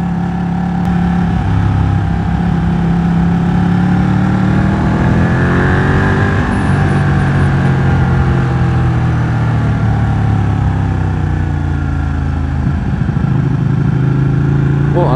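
A Ducati 1199 Panigale motorcycle engine drones loud and steady while riding on the road, its pitch sweeping up and down with throttle changes and wind rush throughout.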